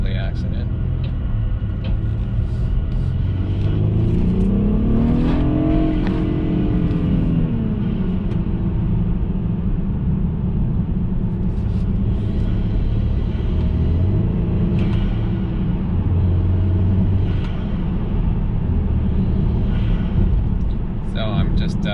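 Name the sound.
BMW 328i N20 engine with Injen intake, throttle on and off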